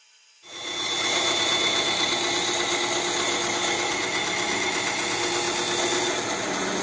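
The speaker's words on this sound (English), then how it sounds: "So we should be able to take this to the bandsaw and cut this line out." Bandsaw starts up and runs steadily while cutting a wooden half hull along a marked line, a continuous loud whirring hum close by with no talk.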